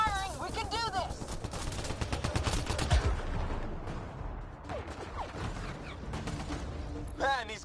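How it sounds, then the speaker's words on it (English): Gunfire and clattering mechanical weapon sounds in the video game Mass Effect Andromeda, rapid repeated shots under a busy mix with brief voices and effects. "Just keep firing, we can do this!"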